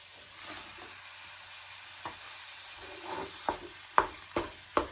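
Ground pork sizzles in a hot pan with garlic and onion, a soft frying hiss broken by several sharp scrapes and clacks of a utensil stirring and breaking up the meat, growing louder toward the end.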